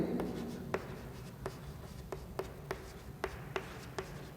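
Chalk or marker writing on a board during a first-year microbiology lecture, a series of quiet, sharp taps and short strokes at irregular intervals, close and soft, with no speech.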